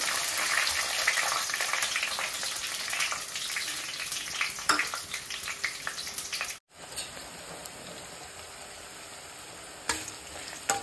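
Onions fry in hot oil in a pan for a gongura boti curry, giving a steady bright crackling sizzle with occasional stirring clicks, a brief cut midway, then a quieter sizzle continuing.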